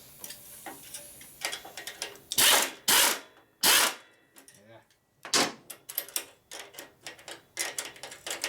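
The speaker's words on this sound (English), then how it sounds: "Tighten down this pinch bolt here." A pinch bolt tightened on a 1965 Harley-Davidson FLH panhead during a 74ci motor rebuild: irregular metallic ratcheting clicks and clanks of a tool, with a few loud scraping bursts and pauses in between, close up.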